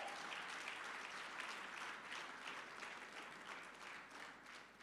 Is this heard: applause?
yes